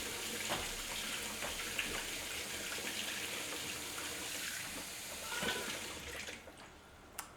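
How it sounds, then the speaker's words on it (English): Water pours steadily into a slow cooker pot during meal prep, a close, continuous splashing flow that tapers off and stops near the end. "I'm gonna add a little bit of water to this too"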